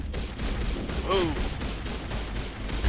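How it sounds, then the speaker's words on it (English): Rapid gunfire from enemies shooting at a wall in the video game Mass Effect: a steady stream of repeated shots with a busy battle din behind, and a brief vocal cry partway through. "They are shooting at a wall."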